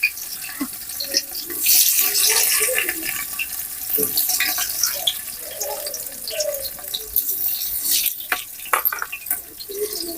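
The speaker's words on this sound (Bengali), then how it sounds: "তেলটা কিন্তু গরম হয়ে গেছে আমি চাল দিয়ে দেবো" Washed polao rice is stirred into hot oil in a pan while cooking chicken biryani, giving a close, continuous watery crackle and hiss with scraping stirs throughout.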